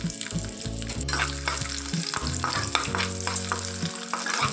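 Onion frying in a pan for horse gram chutney gives a steady sizzle and stirring scrapes, with tonal hum and music-like pitched tones running underneath throughout.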